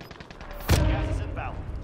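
Gunfire in the video game Warzone: a loud shot or burst lands mid-clip over a rattle of rapid fire, with players talking over the fighting.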